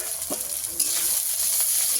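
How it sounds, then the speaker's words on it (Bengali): Onion, garlic and tomato frying together in a pan for a country chicken curry, a steady close sizzle with soft stirring scrapes, no talking. "টমেটোটাও আমি ভালো করে ভেজে নেব।"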